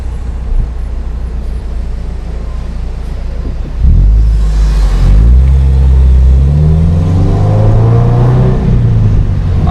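A Toyota 86 with a DC Sports cat-back exhaust pulls away under light acceleration, a low idle rumble swelling into a loud, rising engine drone heard from inside the car, with no talking.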